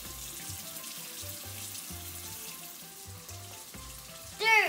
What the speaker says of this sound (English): Second, you have to wash your face.